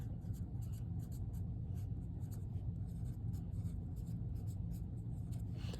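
A pen or marker scratches across paper while a bar graph title is written by hand, a close run of short scraping strokes over a low background hum.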